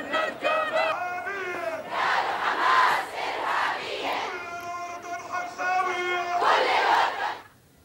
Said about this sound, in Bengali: ফিলিস্তিনের পতাকা হাতে যুক্তরাষ্ট্র বিরোধী স্লোগান দেয় বিক্ষোভকারীরা।